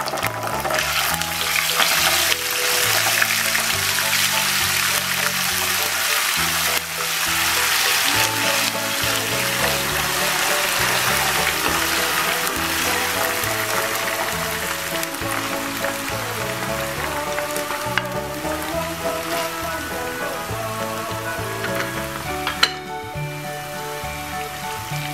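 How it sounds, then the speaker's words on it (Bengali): Spices sizzle steadily as they are sautéed in oil for a chicken and bean seed curry, a continuous bright frying hiss heard close up beneath loud background music. "সব মশলা দিয়ে দিলাম। এবার মশলাটা ভালো করে কষিয়ে নেব।"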